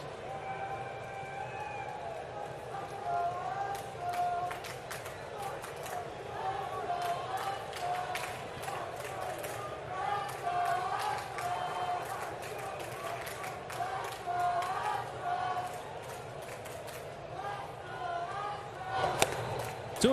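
Sparse baseball stadium crowd at a Dodgers–Astros game echoing through a half-empty ballpark, with scattered claps, whistles and shouts as a chant starts to build, steady and distant under continuous broadcast commentary.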